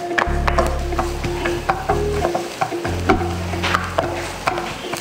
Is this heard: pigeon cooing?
no